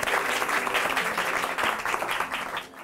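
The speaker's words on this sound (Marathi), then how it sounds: "पण नाचासाठी एकदा जोरदार टाळ्या पाहिजे" A studio audience on a Marathi TV game show bursts into vigorous, sustained applause, a thick crowd of clapping hands that holds strong before tapering slightly at the end.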